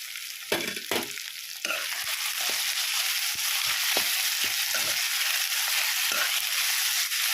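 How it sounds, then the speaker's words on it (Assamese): Onion, garlic and ginger fry in a pan with a steady, close sizzle, broken by several sharp scraping knocks of a spatula as the mixture is stirred. "এতিয়া এইকণো অলপ দেৰি মই ভাজি লওঁ।"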